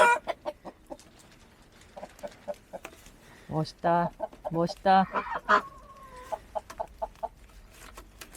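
Chickens cluck in short, repeated bursts in a snowy countryside yard during a bitter cold winter, with ducks kept alongside them, while people talk intermittently nearby.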